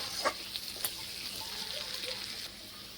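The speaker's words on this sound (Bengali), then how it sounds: "তো আমি রসুনের সঙ্গে এই ক্যাপসিকামও দিয়ে দিলাম। খুব ভালো করে একটু ভাজতে হবে।" Red and green capsicum fries with garlic in a pan for a rui fish jhal, giving a soft continuous sizzle with a few light utensil taps near the start, no speech.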